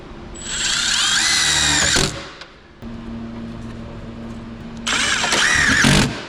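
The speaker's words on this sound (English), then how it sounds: "I'm gonna use some black self-tappers to fix them to the firewall" A power drill drives black self-tapping screws into a Datsun 510 car firewall during brake line installation, two close, loud whining bursts of drilling separated by a quieter pause with faint background hum.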